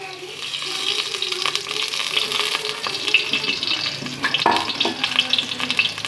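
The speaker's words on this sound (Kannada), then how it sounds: "ಪ್ಯಾನ್ಗೆ ಸ್ವಲ್ಪ ಎಣ್ಣೆ ಹಾಕ್ತೀನಿ." Oil poured into a hot pan starting to sizzle for a Kannada banguda (mackerel) fish sambar, a bright crackling hiss with some splashy clinks, close and moderately loud, with brief talk.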